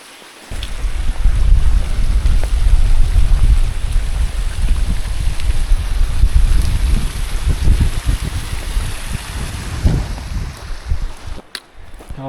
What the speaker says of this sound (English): What a nice creek, huh?